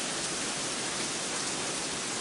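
Heavy rain pours down in a dense, steady hiss, constant and loud throughout with no break.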